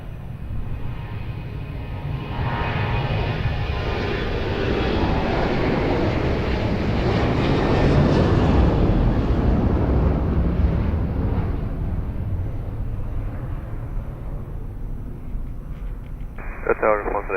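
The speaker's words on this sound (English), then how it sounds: "Boeing 737 rolling" Boeing 737 jet rolling on the runway at Lisbon Airport, a loud, sustained engine roar that swells and holds for many seconds, with faint radio chatter mixed in.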